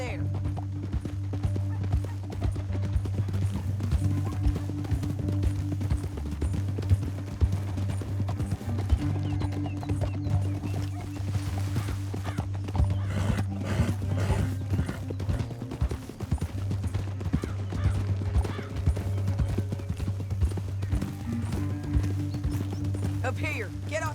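Horses in Red Dead Redemption 2 gallop with a continuous drumming of hooves beneath a steady low engine-like drone of game music, with an occasional whinny rising out of the mix.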